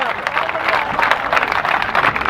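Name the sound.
audience applauding on request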